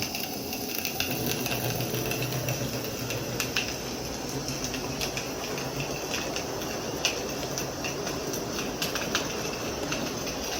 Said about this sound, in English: the Shay locomotive, being a low-geared locomotive, wasn't a speed demon